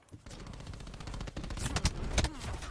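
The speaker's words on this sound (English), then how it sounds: "I just shot through a fucking wall." Video game gunfire rattles in quick bursts as shots go through a wall, the rapid cracks building toward the end amid other game noise, at a moderate level with no speech.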